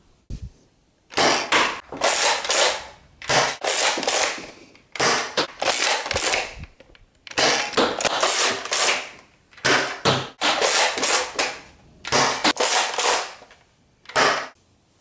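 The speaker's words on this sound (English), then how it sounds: "Now here is a firing demo of the Slingfire." A NERF Zombiestrike Slingfire blaster fires again and again, each shot a sharp, loud snapping burst, the bursts spaced about a second apart with short quiet gaps between them.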